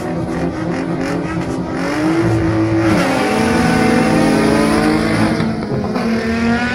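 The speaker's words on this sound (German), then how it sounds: "Guter Start von den beiden Audi Quattro." Two Audi Quattro cars launch off the start line of an autocross, their engines revving hard and rising in pitch as they pull away, loud and close with a crowd faintly behind.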